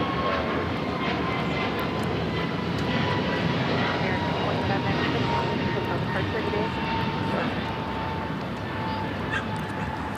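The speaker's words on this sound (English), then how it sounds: "This is American Airlines 2978 taking off to Charlotte on the A321neo" An American Airlines A321neo taking off at LAX gives a continuous, even jet-engine roar that holds steady from start to finish at a moderate distance.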